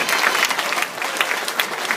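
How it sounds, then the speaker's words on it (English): Party guests at a 70th birthday celebration break into loud, dense applause, many hands clapping close by in a steady burst with no talking. "give them a big round of applause"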